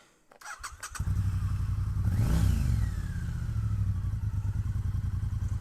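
A Triumph Bonneville motorcycle cranks and fires up, then its engine is revved once with a rising and falling whine before settling into a steady, close, throbbing idle.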